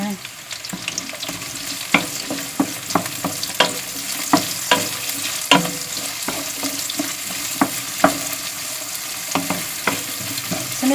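Onion frying in a pan gives a continuous close sizzle, with repeated sharp scrapes and taps of stirring spread through it and no voices.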